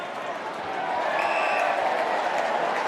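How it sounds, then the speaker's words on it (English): Large stadium crowd at an AFL match between Fremantle and Collingwood roaring in a steady, distant wash of cheering that swells and holds loud, with a commentator's voice faintly over it. "And the crowd really getting behind the big man."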